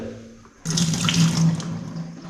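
A cleaned washbasin tap in a homestay bathroom is opened, and water suddenly gushes into the basin, a loud steady splashing stream after a quiet start.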